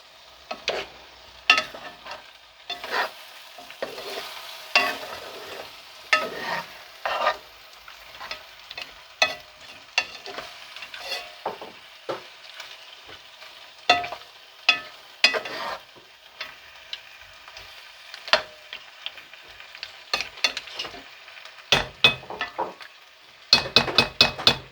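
Paella of basmati rice with mussels and king prawns sizzles softly in a pan while a utensil repeatedly stirs and scrapes it, giving a run of irregular clinking strokes over the quiet frying hiss.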